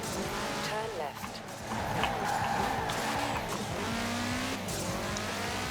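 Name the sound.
Subaru STI 2005 car engine and turbo in Forza Horizon video game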